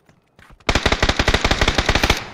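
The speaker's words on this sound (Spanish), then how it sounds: "Wow, qué raro disparo." Rapid automatic gunfire in a video game, a fast loud burst of around twenty evenly spaced shots after a few faint clicks and a single earlier shot.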